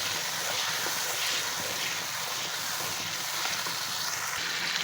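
Goat trotters (paya) sizzle and fry steadily in masala for a goat paya dish, a continuous close hiss with no talking.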